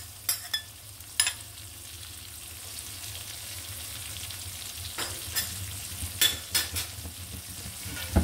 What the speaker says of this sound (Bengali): এখন আমি পেঁয়াজটা ভালো করে ভেজে নেব